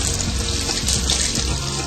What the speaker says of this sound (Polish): Fotokomórka reaguje na dłonie użytkownika, i uruchamia strumień wody.